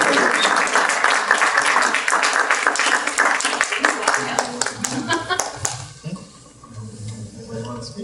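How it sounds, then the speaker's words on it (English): Audience applause for an organization's founders at a 20-year anniversary celebration, dense clapping that fills the room for about six seconds before thinning out, with voices murmuring under it as it fades. "so we can give them a huge round of applause for creating this organization"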